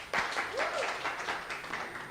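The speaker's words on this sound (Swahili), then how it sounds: "Makofi kwa Linda" An audience applauds Linda at a Kisumu youth conversation in Kenya: a burst of clapping that starts abruptly and holds steady for about two seconds, with a brief rising whistle or cheer in the middle.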